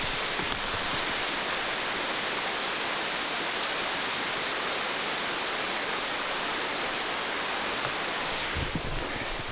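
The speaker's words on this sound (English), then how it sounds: "See if I can show you the waterfall." Steady roar of a waterfall near a hidden hammock campsite, a dense continuous rush of falling water heard up close and loud without a break, with no talk over it.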